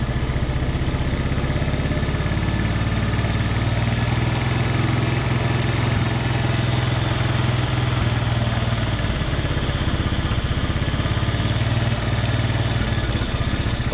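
A rebuilt high-compression 130cc Honda ATC/TRX125 engine idles steadily and close by, a continuous low rumble with no breaks and no talk over it.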